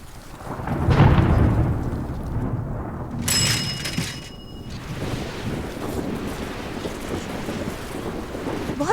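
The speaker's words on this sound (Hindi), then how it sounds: "बहुत तेज बारिश होने वाली है" A deep roll of thunder rumbles early on, followed by steady rain and gusting wind buffeting the microphone.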